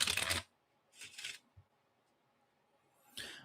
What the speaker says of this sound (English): All right, so let me shuffle.